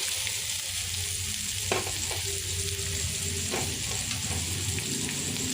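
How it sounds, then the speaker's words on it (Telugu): Pieces of bitter gourd frying with browned onions in a pan: a dense, steady sizzle fills the whole stretch, with a couple of faint stirring clicks and no voices. "ఇప్పుడు కాకరకాయ వేసుకుందాము కట్ చేసిన కాకరకాయ ముక్కలు దీంట్లో వేసుకుందామండి"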